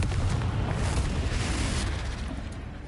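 Confringo blasting curse from Hogwarts Legacy going off as a loud, dense explosive roar with heavy low rumble, sustained for a couple of seconds before slowly thinning out.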